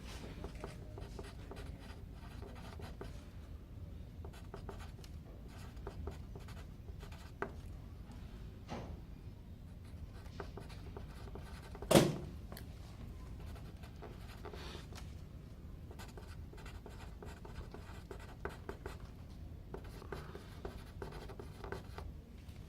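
Steady pen scratching on paper, close and quiet, continuous strokes with a brief louder bump midway, in a hospital outpatient room.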